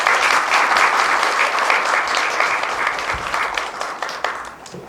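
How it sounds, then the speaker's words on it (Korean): A forum audience applauds to welcome a speaker, dense sustained clapping from a crowd that gradually thins toward the end, no speech over it. "큰 박수로 맞이해 주시기 바랍니다."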